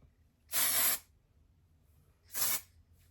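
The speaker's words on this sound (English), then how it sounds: "So I grab my hair and pull it out and spray into it." Two short bursts of hairspray from an aerosol can aimed into lifted hair while curling, each a close, loud hiss about half a second long with a quiet gap between.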